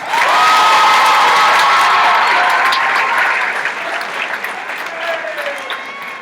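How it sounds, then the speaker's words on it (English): An audience at a high school graduation claps loudly in a dense wash of applause with some cheering, fading gradually toward the end. "let us give them a sincere round of applause"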